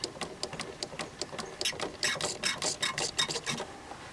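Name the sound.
hand pump pumping out power steering fluid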